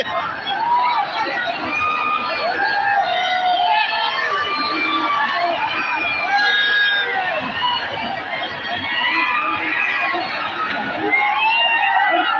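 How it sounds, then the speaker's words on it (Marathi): A huge, dense crowd gathered in Nanded to welcome Manoj Jarange Patil, producing a loud continuous roar of voices, shouts and cheering with sirens mixed in throughout. "प्रचंड प्रचंड प्रचंड गर्दी नांदेड मध्ये"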